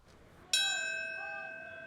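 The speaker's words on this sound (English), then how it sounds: "one toll of the bell and silence" A single bell toll at the Ground Zero memorial ceremony in New York: one sharp metallic strike rings out and then decays slowly, clear and alone in a quiet setting.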